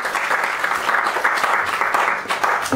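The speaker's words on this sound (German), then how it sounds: "bitte ich um einen donnernden Applaus für den Erschaffer dieser Welt" A crowd at an evening literary reading applauds steadily and fairly close, a dense wash of many hands clapping without pause for the whole stretch.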